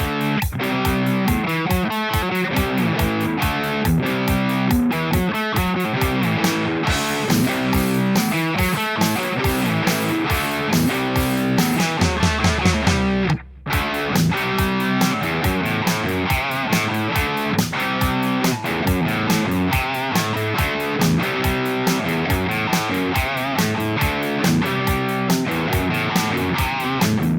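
Heavily distorted electric guitar through a Boss Katana MK2 amp plays a riff with steady rhythm, loud and continuous apart from one brief dropout midway.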